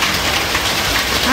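Rain pours steadily outdoors by a riverbank at a Vietnamese family gathering, a dense, loud, close hiss of drops hitting surfaces that stays even throughout the short stretch.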